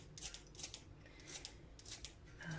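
Several quick crisp snips of scissors cutting a spring onion, evenly spaced and close by, quiet and with no voices.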